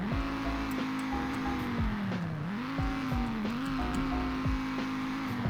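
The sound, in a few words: sedan with 2.5-liter five-cylinder engine revving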